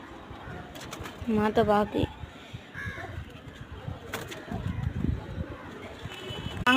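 Pigeons coo close by in a loft, with a few soft rhythmic bursts amid rustling and background noise while a person speaks intermittently over them.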